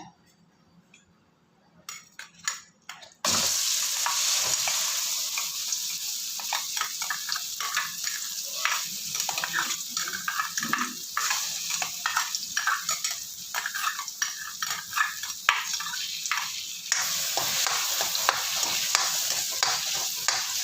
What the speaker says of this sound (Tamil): இதை முதல்ல கொஞ்சம் நல்லா வதக்கின்றுவோம்